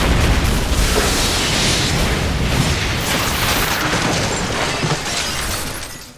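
A grenade explosion in a film scene, a loud, sustained roaring blast with debris-like rumble filling the whole stretch before fading out at the end, with no talk over it.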